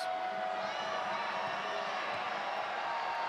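Steady roar of a large basketball arena crowd, more than 10,000 spectators at an Iowa State women's game against Colorado, a continuous dense murmur with faint scattered cheers throughout.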